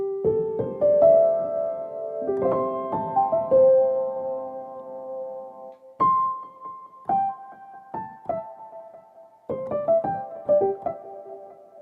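Felt piano, played as sparse single notes and small clusters treated with a ping-pong stereo delay of dotted-eighth and eighth repeats and vintage reverb, each note followed by soft echoes trailing off before the next phrase; no talking.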